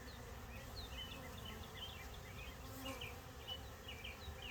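Honey bees swarm around a brood frame of eggs and larvae at an apiary, making a steady, soft, close buzz with individual wingbeats drifting in and out.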